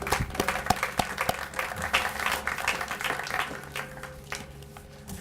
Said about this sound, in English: So let's give a round of applause to Mr. Garvin.